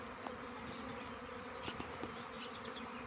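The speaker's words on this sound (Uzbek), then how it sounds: "Juda katta ari." A large bee gives a faint, steady buzz outdoors, unbroken for the whole stretch, with no voices.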